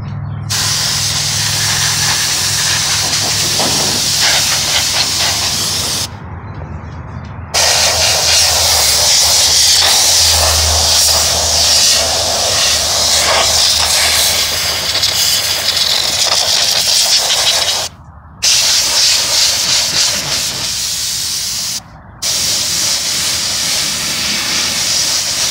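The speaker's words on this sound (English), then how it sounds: "pick up a cheap can of air" Compressed air can blasting dust out of a PC, long loud hissing sprays with a few brief pauses between bursts, close up and continuous, no talking.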